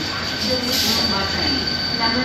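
Train pulling into a station on Korea's Donghae Line, wheels squealing steadily against the rails over a constant loud rolling rumble, close by and continuous throughout.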